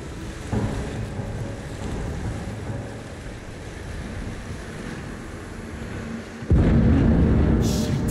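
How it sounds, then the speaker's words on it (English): Rising seawater churns and surges inside the storm-battered oil rig of the game Still Wakes the Deep: a steady rushing wash of waves and wind that swells into a sudden loud surge near the end. "Oh, the water's rising."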